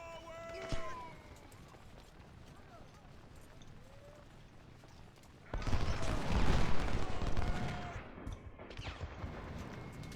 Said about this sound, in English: he's taking fire from 2 directions